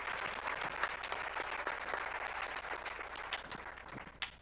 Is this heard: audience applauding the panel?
yes